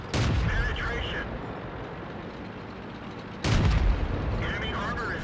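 A tank cannon fires in the World of Tanks video game, with two heavy booming shots a few seconds apart, each followed by a rumbling decay, loud and close.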